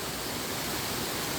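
Steady broadband rush of a waterfall in full monsoon flow at Gomarakh Dham, Taratara, Barmer, continuous and loud without breaks, with no talk.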